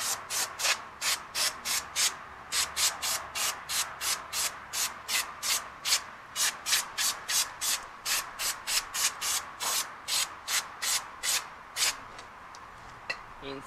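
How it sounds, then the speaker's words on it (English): Wire brush scrubbing brake dust off Nissan 240 brake parts, a rhythmic series of harsh, close scratching strokes repeating steadily at about two per second with brief gaps. "I'm just going to hit it here. Just with this wire brush"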